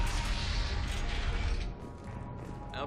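A sci-fi door opening in Mass Effect 2: a mechanical whirring slide with creaking, ratchet-like clatter that fades partway through, ending in a short hiss, fairly quiet and alone.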